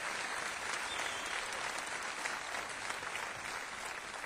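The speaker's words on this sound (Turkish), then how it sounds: "Kendisini alkışlarınızla davet ediyorum." A Turkish folk music audience claps steadily to welcome a female singer onto the stage, the applause continuous and moderately distant, a soft, even roar of many hands.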